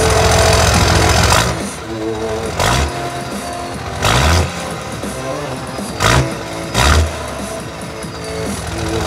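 A tuned, lifted Cummins 5.9 turbo diesel truck with a G56 six-speed and a full 4-inch MBRP turbo-back straight-pipe exhaust idles roughly and then revs hard several times, with loud, close throttle blips between lumpy idle stretches.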